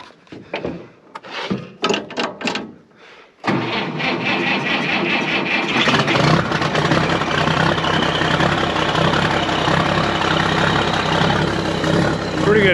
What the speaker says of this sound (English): we're gonna fire the tractor up here in a second